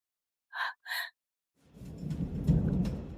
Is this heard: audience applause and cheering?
no